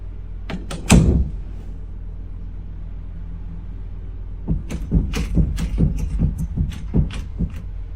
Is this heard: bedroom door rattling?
yes